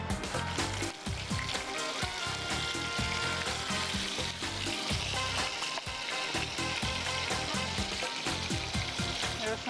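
Onion paste frying in a pan with cardamom, cumin and bay leaves, a steady dense sizzle that runs loud and unbroken throughout, with occasional stirring scrapes.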